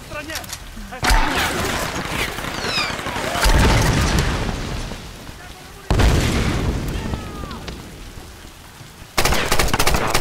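Grenade launcher rounds explode in the Tomb Raider video game, several loud booming blasts a few seconds apart, each followed by decaying rumble and debris, with rain-like background noise and a player talking.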